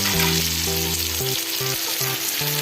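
Colocasia is stirred into onion, garlic and ginger frying in a pan, giving a steady close sizzle with scraping stirs, over a faint repeating musical tone.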